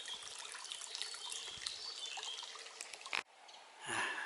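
A steady, hissy trickle of running water along a footpath turned into a small stream, close by, continues for a few seconds with a brief rustle near the end.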